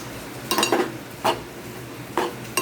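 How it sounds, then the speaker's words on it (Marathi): A spoon stirs sprouted mung bean bhaji in a pan over a raised gas flame, giving a few separate scraping clinks at uneven intervals against a low, steady background hum. "आणि आता छान ही भाजी मिक्स करून घेतली आहे."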